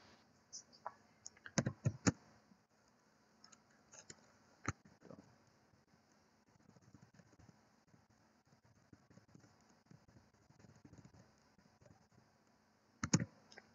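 Light tapping on a computer keyboard while filling in a Google Form, scattered soft clicks with a few louder clustered bursts, close and quiet with no speech over it.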